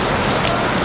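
Rain falls as a dense, steady hiss of drops hitting surfaces, close and fairly loud, with no voices.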